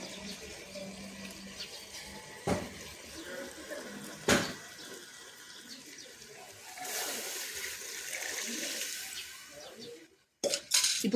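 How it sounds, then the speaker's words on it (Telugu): Water pours into a pot of chicken curry being cooked over a wood fire in a village, a light splashing stream that swells for a few seconds among scattered clinks and soft background noise. "ఈ వాటర్ని దాంట్లో కర్రీలో యాడ్ చేసేసుకుందాం మనము"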